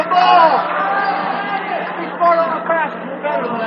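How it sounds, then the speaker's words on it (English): Crowd murmur and scattered chatter from spectators at a Seton boys' high school basketball game against Muncie Burris, a steady indoor hubbub with a few louder swells, running behind close play-by-play talk. "Hear the crowd in the background"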